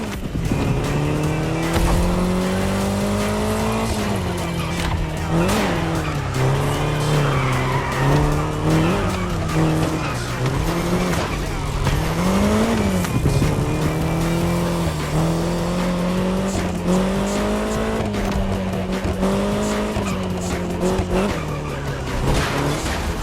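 A car in the racing video game The Crew Motorfest roars continuously, its engine revving up and down through repeated tire squeals and skids.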